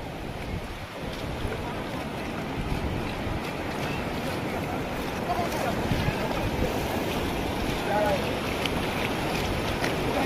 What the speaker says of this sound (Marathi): पुलावर पाणी आलेलं आहे मित्रांनो